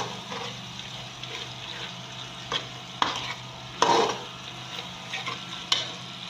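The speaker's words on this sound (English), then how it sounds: "I'm dissolving the seasoning cubes." Spoon stirring seasoning cubes into liquid in a pot for Nigerian jollof rice, with a few scattered scrapes and clinks over a faint steady background hiss, no talking.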